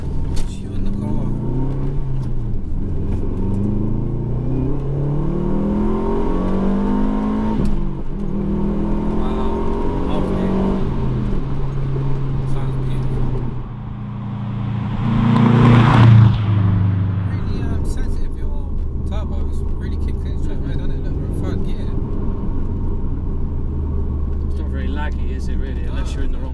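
A BMW M3 with a manual gearbox drives along with a steady engine drone that rises through the gears and briefly swells near the middle, while people talk inside the cabin.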